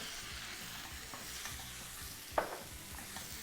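A tomato is stirred into a sizzling pan of bulgur and onion, giving a soft continuous fry with scraping stirs and one sharper knock of the spoon, close and without talk.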